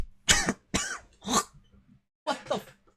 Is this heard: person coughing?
yes